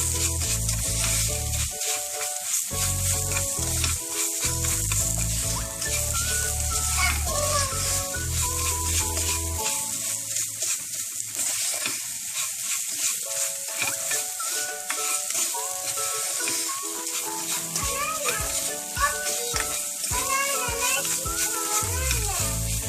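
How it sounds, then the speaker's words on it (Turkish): Pepper paste and tarhana frying together in a pan for black-eyed pea tarhana soup, making a constant close sizzle with stirring underneath voices and children's chatter throughout. "Bir yemek kaşığı biber salçası ve onunla da kavuralım."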